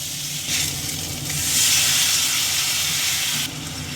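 Water poured onto chili paste with ginger and cumin in a hot pan, raising a loud, steady sizzle and hiss that swells midway and carries on without pause.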